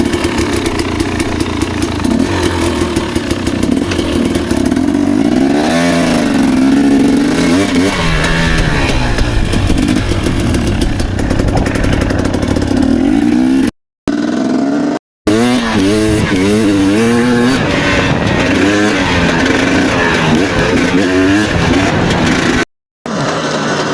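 A KTM XC250 two-stroke dirt bike is ridden close up, its engine loud and buzzy throughout, revving and surging repeatedly with throttle changes and cutting out briefly a few times.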